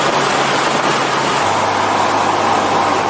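A Mazda sports car, an MX-5 Miata or RX-7, accelerates hard on an open road, its engine a loud, continuous close drone with a low tone that steps up partway through, with no one speaking.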